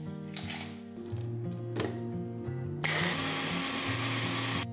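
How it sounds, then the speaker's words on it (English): An electric grinder whirs as it grinds crispy air-fried roasted chilies into powder, a steady mechanical hum with shifting pitch that rises into a louder, harsher buzzing partway through. "Then simply grind them into powder."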